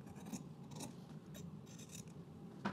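Scissors trim fabric for sewing jeans, giving soft, intermittent snipping and rasping cuts spaced out over a few seconds, close and quiet.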